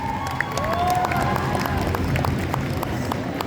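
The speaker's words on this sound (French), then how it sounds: "On peut l'applaudir encore une fois pour cette performance." An audience applauds and cheers after a cosplay stage performance at the Paris Manga convention, with steady crowd clapping and a few shouts filling the whole stretch.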